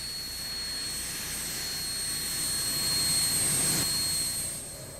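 A jet aircraft engine whines steadily as the plane taxis toward the runway, a loud sustained roar with high pitched tonal whine that swells slightly toward the end, no voices.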